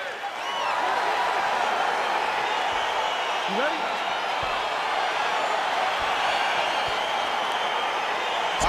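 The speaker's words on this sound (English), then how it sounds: "crowd getting excited as this fight gets underway" Crowd noise fills an arena as a UFC fight gets underway, a steady dense roar of cheering spectators throughout, with a referee's brief voice near the start.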